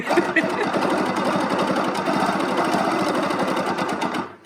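A BERNINA Q Series sit-down quilting sewing machine stitches steadily at close range, its rapid needle chatter running continuously for several seconds before stopping abruptly at the end.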